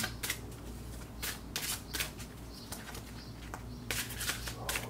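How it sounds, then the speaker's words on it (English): Repeated crisp riffling bursts of a deck of tarot cards being shuffled, several quick rounds close up over a faint low background hum. "Spirit's saying they want me to do a shuffle here."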